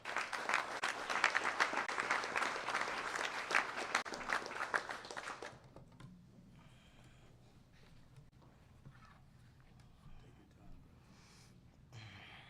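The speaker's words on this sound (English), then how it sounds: "Clap your hands for Alonzo Waheed." A press-event audience claps for Alonzo Waheed, a dense burst of applause lasting about five seconds that cuts off abruptly, leaving quiet room tone with faint scattered sounds.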